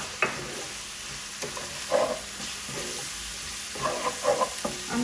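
Meat samosa filling with spices cooking in a pan, soft steady sizzle broken by several scraping stirs and clinks of a utensil, close and moderately loud with no voices.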